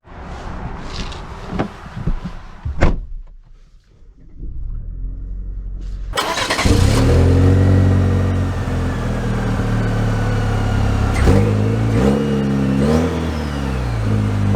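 A 2023 GMC Canyon AT4 pickup truck, loud and close: its engine starts with a sharp burst after a few clunks and quiet, then settles into a steady rumbling idle with occasional revs.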